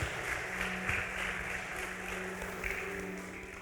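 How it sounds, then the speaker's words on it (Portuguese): A church congregation claps during a sermon, a quiet, fairly distant patter of applause under a low hum of room sound. "Pode aplaudir a Jesus."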